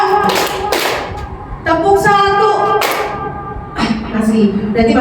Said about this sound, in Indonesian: Gampang nih ice breakingnya, cuma tepuk-tepuk ya.